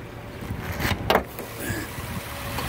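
A 2010 Nissan Maxima SV 3.5 idles steadily under the hood in a wrecking yard, a low, even engine hum heard up close with a brief louder swell partway through.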